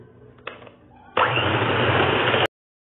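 After a few soft knocks, an electric mixer starts abruptly and whirs loudly and steadily for about a second, beating eggs for homemade mayonnaise while oil is added little by little, then cuts off into silence.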